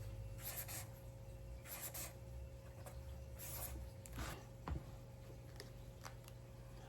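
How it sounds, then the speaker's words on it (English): A pen writes a number on paper with soft, scratchy strokes that come in several short, quiet bursts separated by brief pauses in a calm room. "I'm going to write down the first number that made me feel like an imposter"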